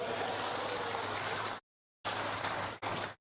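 A church congregation claps together during an Indonesian sermon, a dense, even patter of many hands like heavy rain, broken by a sudden silent gap and a brief dropout near the end.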